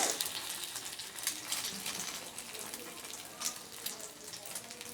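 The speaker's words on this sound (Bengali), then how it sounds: "আবারও একটা তেলের মধ্যে দিয়ে দিলাম।" Egg-dipped bread slice frying in hot oil, a steady close sizzle and crackle running continuously with small bursts of spitting.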